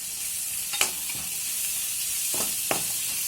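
Garlic paste hitting onions frying in oil for chole pulao, giving a continuous close sizzle broken by a few sharp stirring scrapes, with no voices.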